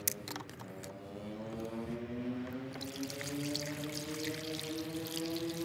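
Windscreen washer fluid poured into the reservoir of a Ford Focus, a continuous gurgling pour with rising pitch as the container fills, close and alone.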